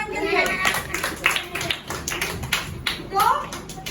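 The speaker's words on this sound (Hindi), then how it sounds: "ताली बजाओ इनके लिए।" Schoolchildren in a classroom clap for classmates during a math activity, uneven rhythmic hand claps mixed with children's voices and a teacher talking.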